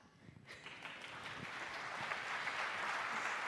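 Conference audience clapping at a Windows 10 deployment session, applause starting thin and swelling to a steady, moderately distant wash of many hands.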